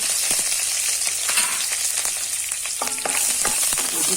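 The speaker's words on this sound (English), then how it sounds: "So let us wait for it to splutter, and then we will add the other ingredients." Mustard seeds splutter in hot oil with curry leaves and chili for bitter gourd gojju, a steady dense sizzle with sharp irregular pops and crackles throughout, close and fairly loud, with no voices.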